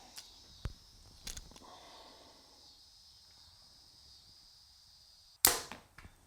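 Arrows shot from a Mathews Lift compound bow at 20 yards outdoors: a sharp release snap and impact near the end, a few quieter clicks earlier, amid faint insect chirping and near silence.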